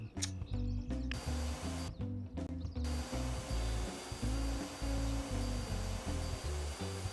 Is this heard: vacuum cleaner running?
yes